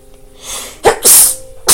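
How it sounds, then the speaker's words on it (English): A person sneezes, with a short sharp burst followed by a second, louder explosive sneeze and then the start of another, all loud and close over a quiet room. "you might catch a sneeze on this episode."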